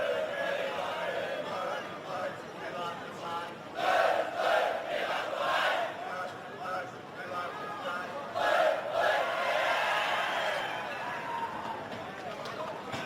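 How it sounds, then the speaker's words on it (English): St Gregory's College students cheering their rugby players during a schoolboy match against Bass SHS, a crowd roaring in swelling waves at a moderate distance with shouted voices mixed in. "Those were the St Gregory students cheering on their players"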